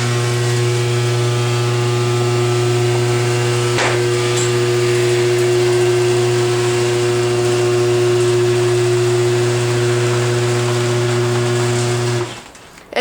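A modified Chamberlain HD200D garage door opener runs noisily with a loud, steady motor hum and drone that cuts off abruptly near the end.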